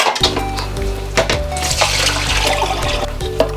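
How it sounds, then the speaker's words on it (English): Water from boiled potatoes is drained off, a splashing, gurgling pour with a few clunks of the pot, close and fairly loud for a few seconds. "So I've drained my potatoes"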